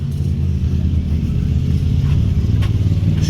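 A turbocharged Honda V6 in a dune vehicle with a top-mount intercooler rumbles loud and close, a deep steady idle with slight revving swells and no talking.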